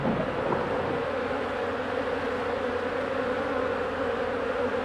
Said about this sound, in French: il y a des abeilles qui sont en train de prendre de l'eau sur les tôles